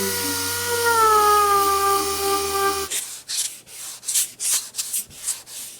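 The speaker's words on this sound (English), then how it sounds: "Now all I've got to do is sand the major part, and then it'll be ready for glaze." Body filler being sanded on an off-road truck: after a few seconds of a steady tonal whine, rhythmic rasping strokes start, about seven close, even back-and-forth scrubs.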